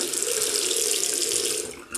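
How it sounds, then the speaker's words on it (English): Hot tap water runs steadily into a sink while a razor is rinsed under the stream, a close, loud, even splashing hiss that thins and sputters briefly near the end. "I would prefer just to rinse the razor under hot water every now and again"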